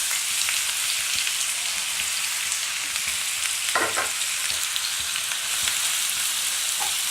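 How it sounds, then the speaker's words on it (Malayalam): Onions sizzle steadily in hot oil in a pan, a continuous close hiss with a brief clatter of stirring partway through. "ഇനി ഇതിലോട്ട് നമുക്ക് ഉള്ളി ചേർക്കാം."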